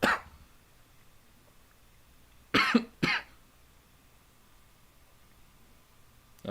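A person coughs during a late-night live audio chat show: one short burst at the start, then a pair of sharp, close coughs in quick succession midway, and another at the very end, each loud against near silence.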